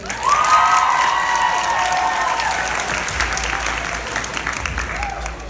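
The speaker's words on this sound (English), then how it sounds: "Amazing work and big round of applause to Leah and Kaylee." A crowd at a school sports banquet claps steadily in sustained applause, with a brief cheer rising at the start and voices faintly mixed in.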